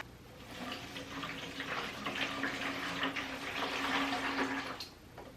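Water runs steadily from a tap for several seconds in a home, a continuous hissing splash that stops near the end.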